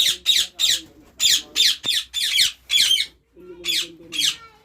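Many birds squawk repeatedly on a farm in Italy, the loud, harsh calls coming close together in a rapid series and sounding near, with a brief gap before the last few calls.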